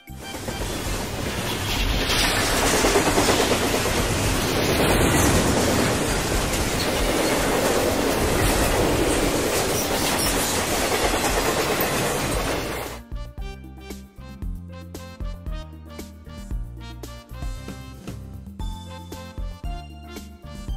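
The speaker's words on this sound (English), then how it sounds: "Metro." A metro train runs with a loud, steady broadband rumble and rattle of wheels on track, sustained for about thirteen seconds before giving way to a bouncy children's music track.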